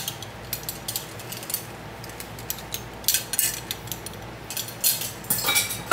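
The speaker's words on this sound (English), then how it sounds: "I'm going to start grabbing a teaspoon." A metal teaspoon picked up in a home kitchen while making syrup, giving a series of light, bright metallic clinks and rattles, irregular and close, with no talking.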